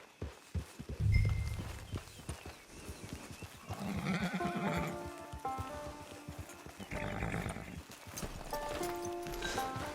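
Horse in the video game Red Dead Redemption 2 clip-clops with uneven hoofbeats, snorts, then gives drawn-out whinnies, close and fairly loud, set against faint music.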